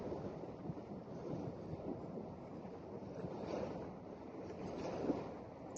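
Steady Atlantic Ocean wash and surf heard from a boat, mixed with wind buffeting the microphone, a continuous broad roar with no voices.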